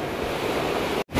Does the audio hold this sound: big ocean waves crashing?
yes